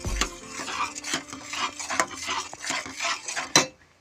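Sugar being stirred in a pan over high heat while making sandesh, a spoon scraping and clinking against the metal in a steady, busy rhythm close by, ending with one sharper clank.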